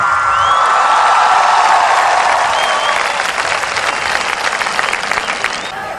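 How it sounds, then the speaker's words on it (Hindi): A comedy-show audience at Graphic Era University bursts into loud, sustained applause, dense clapping that fills the hall steadily for several seconds with scattered cheers mixed in. "एक बार जोरदार तालियां अपने लिए।"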